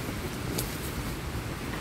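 Strong wind gusts roar steadily at night on an island in Apo Reef Natural Park, a broad rushing noise with microphone buffeting and no talk.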